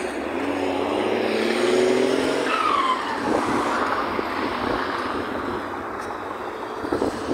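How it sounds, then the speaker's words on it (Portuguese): A concrete mixer truck passes along a busy city street in Brazil, its heavy engine roar swelling loudly and then easing off as it moves by, with steady traffic noise continuing behind it. "Carro"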